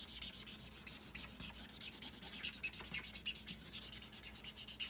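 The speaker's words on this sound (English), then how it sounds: "And then now you can scrub the green out." Green ink is scrubbed off a rubber stamp with quick, rhythmic back-and-forth rubbing strokes, a soft, close scratching that continues steadily with no talk.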